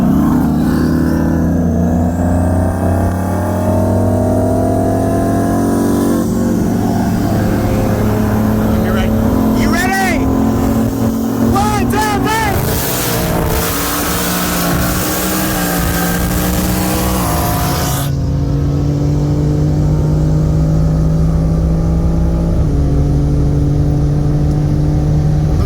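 A tuned 2017 BMW M3 with upgraded turbos on E85 and a 2019 Ford Mustang GT with twin turbos accelerate hard in a roll race from 60 mph, engines droning and rising through gear shifts, loud and close, with a voice heard briefly.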